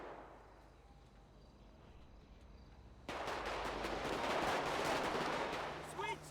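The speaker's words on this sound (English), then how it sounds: "They're shooting at a G6 worker." Gunfire breaks out in a GTA RP NoPixel roleplay scene: after a quiet stretch, a loud, dense run of rapid shots starts suddenly and keeps going as a steady automatic barrage.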